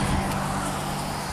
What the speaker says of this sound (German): Viele Autos.